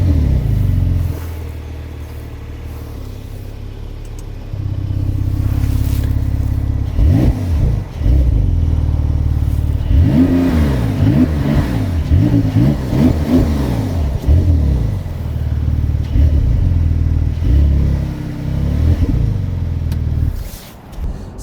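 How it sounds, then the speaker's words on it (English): A Porsche 911 Turbo convertible, wind deflector up and fitted with massive tyres, drives with a constant loud rumble of road noise while its engine revs and accelerates in several rising sweeps, with no talking. "Quite a bit of road noise, even with the wind deflector up, but that happens with Porsche's massive tyres, lack of insulation."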